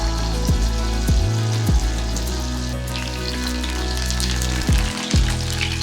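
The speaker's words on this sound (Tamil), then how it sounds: "நம்ம மேரினேட் பண்ணி வச்சுருக்கேன் சிக்கனை ஒவ்வொரு பீஸஸாக போட்டு ஃப்ரை பண்ணி எடுத்துக்கலாம்" Marinated chicken pieces for Erode-style Japan chicken fry in hot oil in a pan, giving a loud, continuous crackling sizzle close up, with a few brief low thumps as pieces shift and no talking.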